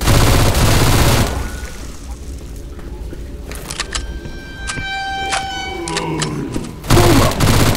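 Rapid bursts of gunfire ring out in Left 4 Dead 2 as players shoot at mud men, loud cracks clustered in quick volleys. A lull follows, then heavy shooting returns near the end.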